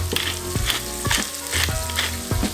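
Crushed cumin seed frying in a hot pan sizzles steadily, with a few sharp stirring scrapes at intervals and no talking.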